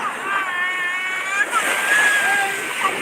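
Surf washes steadily onto a beach on the Sumedang south coast, a continuous airy roar with wind, while a voice rises and falls over it.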